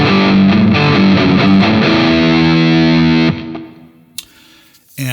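Distorted electric guitar riff through a NUX Amp Academy pedal, loud and chugging for about three seconds before cutting off, followed by faint ringing, a scrape and a soft noise.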